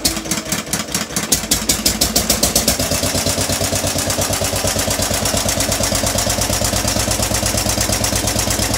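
A Western Electric 15B light plant generator cranks over with uneven firing, then settles into a loud, rapid, steady chugging idle with no load.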